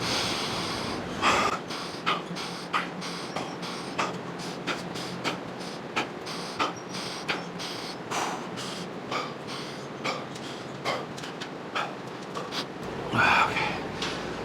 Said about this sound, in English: I'm gonna do 15 breaths